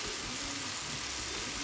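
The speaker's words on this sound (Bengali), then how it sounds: "পেঁয়াজ কলি, টমেটো, কাঁচামরিচ আর লবণ, হলুদ, অল্প করে লাল মরিচের গুঁড়া দিয়ে আলু ভাজাটা করে নিলাম।" Potatoes frying in a pan with onion, tomato, green chili, salt and turmeric give a soft, steady sizzle that runs unbroken and quiet the whole time, with no voices over it.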